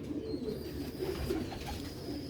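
Old-breed pigeons coo steadily and close by, a low throaty murmur layered from several birds with no pauses, with faint chirps mixed in and nobody talking.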